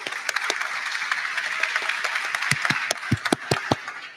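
Audience at an ETH Global blockchain event clapping for the organizers, moderate crowd applause that thins into scattered individual claps toward the end.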